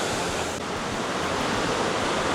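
Waterfall in the Aare Gorge in Switzerland, a steady broadband rush of falling water that holds constant and fairly close throughout, with no talking.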